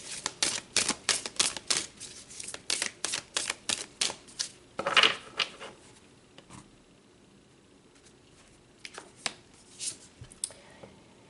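Tarot cards are shuffled close up in a quick series of sharp riffling snaps and slaps, followed by a quieter stretch of a few scattered flicks.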